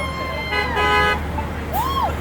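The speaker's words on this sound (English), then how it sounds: "A lot of honks of support." Car horns honk in support of a street protest at the corner of Encinitas Boulevard and El Camino Real in Encinitas, California, with several overlapping toots over steady traffic rumble from passing vehicles.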